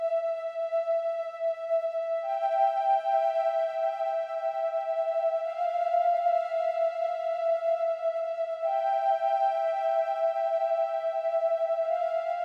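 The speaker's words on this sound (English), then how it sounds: "the flute lead just ended up sounding like this" Sweet, breathy flute-like synth lead from the Alchemy synth holds long sustained tones, shifting between a few pitches in a slow, smooth melody, playing alone and steadily loud throughout.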